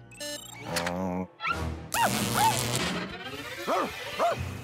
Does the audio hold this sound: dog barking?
yes